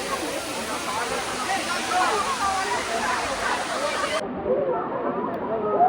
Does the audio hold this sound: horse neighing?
no